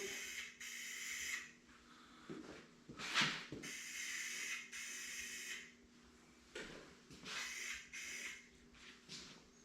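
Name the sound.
spray painting a light coat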